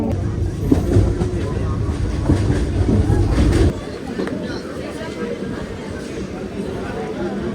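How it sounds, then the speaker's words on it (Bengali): A crowded passenger train runs along the rails with a loud, steady rumble and rattle, and a crowd of people chatters throughout; the rumble drops abruptly partway through. "এই যে এমন ট্রেনে উঠেছি, এত ভিড়"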